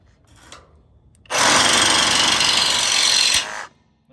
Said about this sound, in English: Let's give this a shot, see if we make a clean cut.